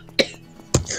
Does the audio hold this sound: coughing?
yes